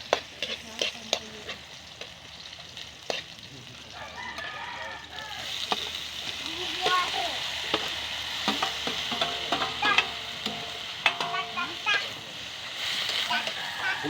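Onions hit a hot pan for dinuguan and fry with a loud, steady crackling sizzle, punctuated by scraping stirs and clinks, with a voice speaking over it at times.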